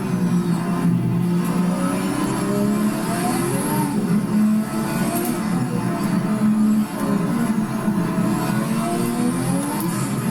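Lotus 98T Formula 1 car with over 1,000 horsepower in Project Cars 3, its engine accelerating steadily and loudly through rising gear sweeps, close and continuous with no talk.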